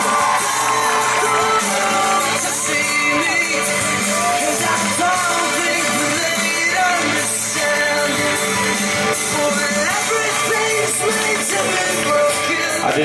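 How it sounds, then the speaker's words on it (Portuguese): Guests at a birthday party cheer and applaud, with loud overlapping shouts, whoops and chatter forming a dense, continuous crowd roar close by. "Uma salva de palmas para o nosso homenageado."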